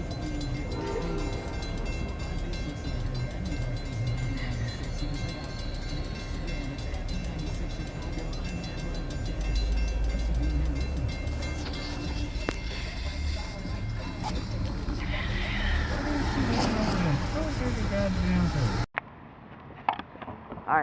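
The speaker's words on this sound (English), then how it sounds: "we have a train coming, and he has a clear signal, so he should just cruise" A train rolls past on a railfanning line with a clear signal, a long loud rumble of wheels and cars with clattering rail joints, fading toward the end before an abrupt cut.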